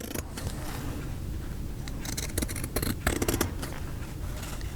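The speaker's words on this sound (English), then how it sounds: "I'm going to get pink or use my pinking shears for the bottom of this row" Pinking shears cut through fabric to make identifying labels, giving a run of crisp, close snips with quicker bursts in the middle and no voices.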